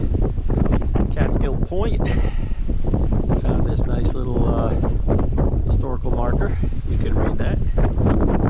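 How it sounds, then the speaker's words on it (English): Strong wind buffets the microphone in a steady, loud roar while someone talks over it throughout, beside a railroad. "Apologize for the wind ahead of time"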